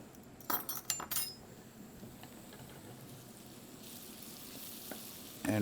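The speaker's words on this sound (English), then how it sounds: "So I'm going to add that flour there." Flour goes into a hot pan for a chicken and biscuits sauce, opening with a few clinking utensil taps, then settling into a quiet, steady sizzle as it is stirred, with a louder scrape at the very end.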